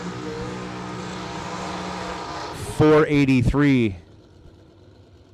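A drag race car engine revs hard through a burnout, with a steady engine drone under an announcer's voice, then a loud, brief surge of climbing and falling revs that cuts off sharply.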